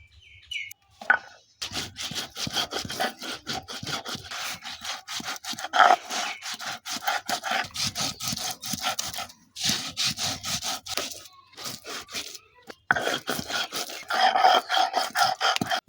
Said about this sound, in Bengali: এখন আমি এই জলটাকে ঝরে এখন আমি এই বাটনাতে পেশ করবো